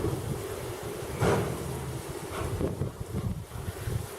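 Strong gusty wind buffets the microphone outdoors during an Australian dust storm, a loud rushing roar that surges and eases with no voices.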